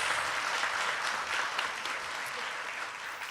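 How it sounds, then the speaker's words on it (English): Continuous applause from an audience welcoming candidates at a Prince George's County Executive candidates forum, a dense steady patter of clapping hands lasting the whole stretch with no voices on top. "Feel free to give them applause before we start."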